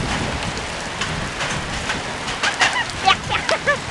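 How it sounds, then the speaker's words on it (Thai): Hail and rain falling during a summer storm, a steady patter of drops with a few sharper ticks of hailstones toward the end, and people talking faintly underneath. "ลูกเห็บจริงๆ"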